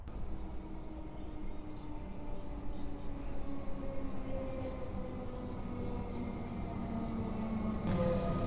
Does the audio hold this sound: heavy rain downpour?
no